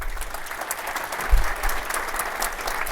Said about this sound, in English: a big round of applause for Tim